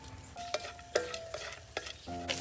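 Marinated minced meat frying in a pan for Vietnamese bánh xèo, cooked outdoors in a field, with steady sizzling and several sharp utensil clinks and scrapes as it is stirred.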